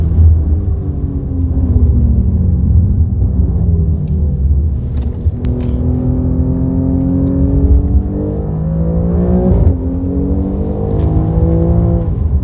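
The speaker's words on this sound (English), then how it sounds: "With the GT cars, you go pedal flat into this corner." Loud engine of a car held flat out through a corner on a racetrack, droning steadily while the pitch climbs and dips with gear changes, with no talk over it.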